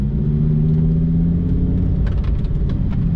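A four-wheel-drive supercar's engine in sport mode holds a steady, close, deep rumble with a low droning hum throughout, with no voices.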